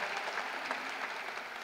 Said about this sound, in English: Round of applause to you.